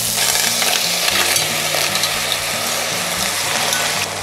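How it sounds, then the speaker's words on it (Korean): Cheongyang chili peppers and garlic stir-fry in a pan, producing a loud, dense sizzle with stirring scrapes over a low, steady hum. "청양고추를 넣고 10초간 볶아준 다음에 조개를 넣도록 하겠습니다"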